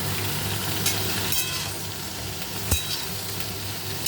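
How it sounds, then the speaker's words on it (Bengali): Pointed gourd (potol) frying in a pan, with a steady close sizzle and a few faint clinks of stirring throughout. "পটলগুলো একটু ভাজা ভাজা মতন করে নেব।"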